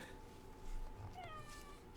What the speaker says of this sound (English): I got another kitty visitor.